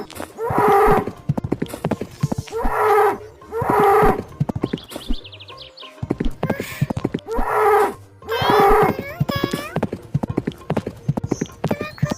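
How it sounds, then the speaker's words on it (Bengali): A cartoon cow gives a series of loud, drawn-out moos at a steady rhythm over rapid hoof-like clip-clop beats. "কষ্ট হচ্ছে গরুটার, মনে হচ্ছে।"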